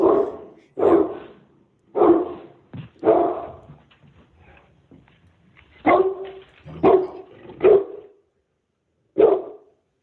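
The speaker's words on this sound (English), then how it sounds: "And we bring our favorite dog into this, and that's Zuko" A football-themed mascot dog barks in repeated loud bursts, close by, with short gaps and a few softer whimpering sounds between the barks.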